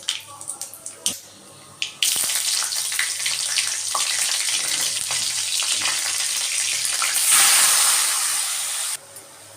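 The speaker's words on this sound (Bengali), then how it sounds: "এখন সর্ষে ফোড়ন দেবো আর দেবো শুকনো লঙ্কা ফোড়ন" Mustard seeds and dry red chillies tempering in hot oil, a loud continuous sizzle and hiss that bursts in after a few sharp knocks and runs for several seconds before cutting off abruptly.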